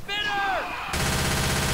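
Gunfire in the video game Left 4 Dead 2 (Wolf4D mod): a descending whistling sweep gives way to a dense, continuous burst of rapid automatic shots, loud and close.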